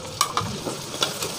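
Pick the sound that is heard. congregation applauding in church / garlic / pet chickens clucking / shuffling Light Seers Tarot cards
garlic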